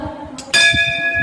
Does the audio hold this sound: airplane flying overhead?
no